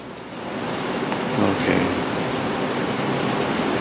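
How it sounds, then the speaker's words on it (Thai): Steady broadband hiss of rain falling outdoors, continuous and moderately loud for the whole stretch, with no talk over it. "ยังมีฝนกำลังตกอยู่นะเนี่ย"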